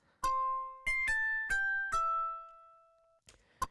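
Five bright plucked charango notes, pitch-shifted, step downward one after another, each ringing briefly, then a short soft pluck and a final sharp blip.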